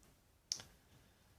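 A single crisp computer mouse click, faint and isolated against quiet room background.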